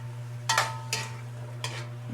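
Chicken sautéing in a pan for tinola, three short scraping stirs over a faint steady sizzle with a constant low hum beneath.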